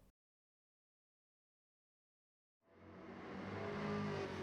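A 2020 Chevrolet Corvette C8 Stingray in Gran Turismo 7 at Suzuka, set up for drifting, starts after a stretch of near silence as a loud, rising engine roar that climbs steadily and holds close and strong.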